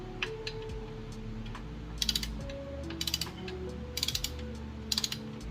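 A torque wrench ratchets as it tightens flywheel bolts on an H22 engine, set to 19 foot-pounds. Quick bursts of sharp, close clicks come at about one-second intervals over a quiet background.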